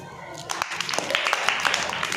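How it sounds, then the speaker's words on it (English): Children clapping together in a classroom, a loose patter of many small hands starting abruptly and continuing unevenly, with voices talking over it. "Give claps."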